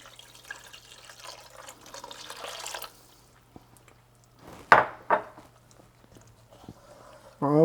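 Water poured from cups into a cooking pot holding oil and puree for dolmeh of stuffed eggplant, bell pepper, tomato and onion; a steady close splashing pour for about three seconds, then a few clanks and a brief voice.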